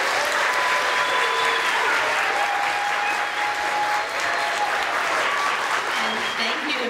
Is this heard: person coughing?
no